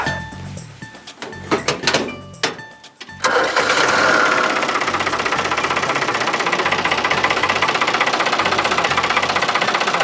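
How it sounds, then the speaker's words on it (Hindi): A tractor engine cranks in a few sharp bursts, catches, and settles into a loud, steady chugging idle close by. "जरा इंजन स्टार्ट करना।"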